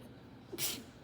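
A single short sneeze from a person, a brief sharp burst of air standing out against a quiet background.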